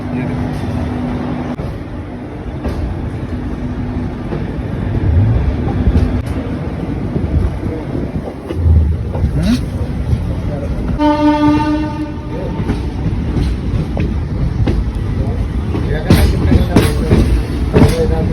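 A passenger express train rumbles steadily along the tracks between Mathura and Bareilly with wheel clatter, a horn blast partway through, and people talking over the noise.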